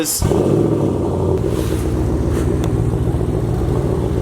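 A right-hand-drive JDM Nissan S14 with an SR20 engine creeps past, a loud, close, steady low engine rumble that holds evenly throughout after a brief sharp onset.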